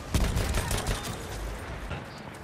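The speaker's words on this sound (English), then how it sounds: "Someone's shooting at me!" Gunfire on a World War I battlefield in Battlefield 1, a rattling volley of close shots over rumbling background combat that fades to a lower murmur within a couple of seconds.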